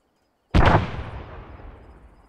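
Frag grenade detonating in the Arma 3 shooter: a loud, sudden blast after half a second of quiet, followed by a long rumbling, fading tail, with no voices.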